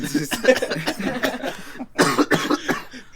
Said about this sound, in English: He'll come back as a cough.